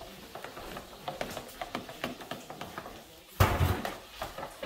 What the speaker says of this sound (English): Making sure these eggs are beat up real good